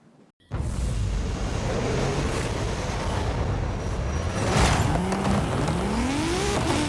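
A maxed-out Nissan Z with a racing 3-liter turbo inline-six making 1,270 horsepower roars through a drag run in Forza Horizon 5, a loud sustained engine drone with rising gear pulls and a faint tire squeal.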